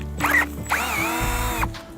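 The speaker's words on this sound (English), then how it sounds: "So now we're gonna drill in, okay, and then we're gonna come straight back out." A power drill bores into a maple tree for sap tapping, its motor whining loudly and rising in pitch for about a second before stopping, close up.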